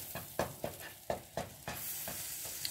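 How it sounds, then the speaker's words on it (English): Eggs and bell peppers cooking in butter in a pan are stirred with several scraping strokes at a steady rhythm, over a soft sizzle that swells into continuous frying noise near the end. "I think it's time for us to give this a stir."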